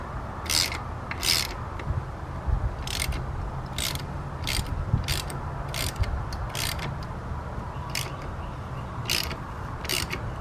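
Ratchet loosening 6 mm bolts on the rear sets of a Yamaha FZ6R motorcycle, heard as a series of short sharp clicking bursts at irregular intervals over a steady background hum.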